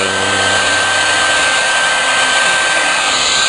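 A heat gun blows on thin shrink tubing with a loud, steady whoosh that holds evenly throughout with no pauses. No one speaks.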